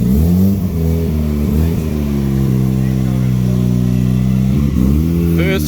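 A Mazda FC RX7 that sat unused for 12 years, revving loud and close on its first drive, the rotary engine rising and dipping in pitch over a continuous idle, with a voice briefly over it.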